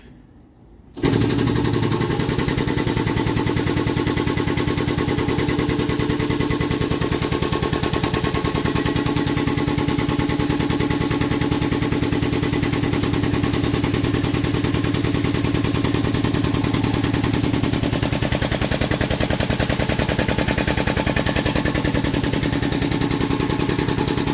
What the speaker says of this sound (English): Compressor turning on scared me.